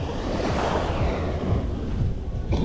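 Ocean waves surge and wash around a small fishing boat at sea, a steady broadband roar with wind buffeting the microphone throughout and a brief splash near the end.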